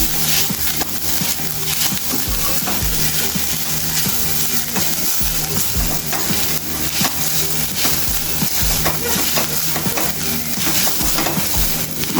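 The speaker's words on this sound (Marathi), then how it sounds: "एक ते दोन एक मिनटं मी छान असं हे खोबरं परतून घेणार आहे" Grated coconut roasting in a pan for ukadiche modak, with a steady dense sizzle and repeated scraping stirs throughout, fairly loud and close, no talking.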